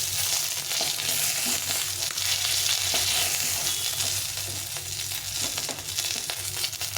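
Singi fish fry in a small amount of oil, giving a dense, continuous close sizzle with faint crackles that stays fairly even throughout.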